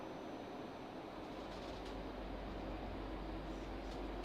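A South Western Railway Class 458 electric train runs with a steady low rumble and rushing noise from inside the carriage, continuous and even, with a deep hum rising slightly partway through.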